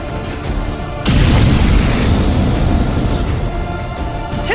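A tank explodes in the XCOM 2 video game with a sudden heavy boom. A loud, sustained roar of rumbling blast and crackle follows and holds steady to the end, preceded by a brief quieter stretch.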